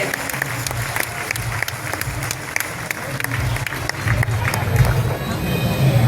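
Loud, sustained applause from a large crowd at a Vishwa Umiya Dham gathering welcoming Gujarat chief minister Bhupendrabhai Patel, steady clapping with crowd noise and a low rumble throughout, swelling slightly toward the end.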